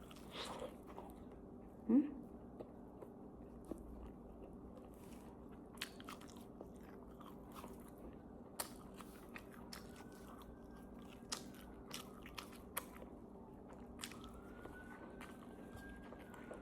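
Biting and chewing homemade egg bread, soft crunchy bites and chewing clicks repeating irregularly close to the mic, quiet, with a faint siren passing in the background.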